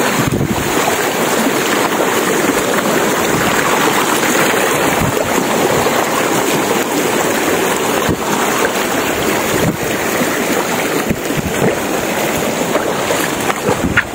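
River water rushes steadily around someone wading across a rural river, a dense, loud, unbroken roar that lasts throughout with no voices.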